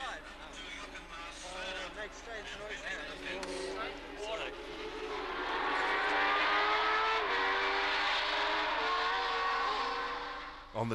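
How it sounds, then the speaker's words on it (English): Formula 1 race cars from the 1977 Grand Prix season scream past on track, engines rising and falling in pitch as they accelerate, with a narrator talking over the racing noise. "On the track, Lauda had taken over second when Watson dropped out."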